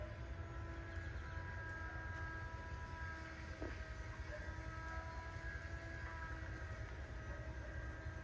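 A train at Ezhimala Railway Station in a Kannur village gives off a low, steady rumble and hum, faint and distant, with no voices heard.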